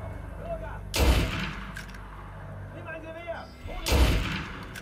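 Two loud, booming gunshots in Assassin's Creed Unity, spaced about three seconds apart, each with a short rumbling tail, over a quieter game background with some voice.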